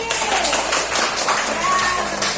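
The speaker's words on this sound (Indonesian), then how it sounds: "tepuk tangan untuk kelompok disiplin" A classroom of students claps for a student group after its presentation, a loud, continuous patter of many hands close by with a few voices mixed in.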